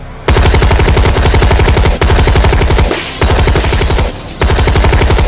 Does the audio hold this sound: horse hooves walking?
no